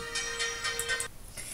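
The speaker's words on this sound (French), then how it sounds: "téléphone qui sonne sans cesse avec des publicités, c'est fatigant" A telephone ringing, a steady electronic ringtone with a bright repeating warble that cuts off after about a second, moderately loud and alone.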